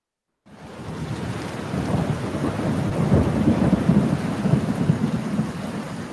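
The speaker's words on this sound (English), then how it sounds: "I like the sound of the rain and the thunder." Steady heavy rain with deep rolling thunder, starting abruptly and continuing as a dense, loud wash of rumble and patter throughout, with no voices.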